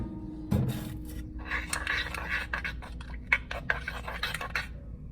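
Plastisol mixture for soft plastic Ned rig baits being stirred in a container, with close, irregular scraping and clinking of a utensil against the sides, steady through the stretch with a few sharper knocks.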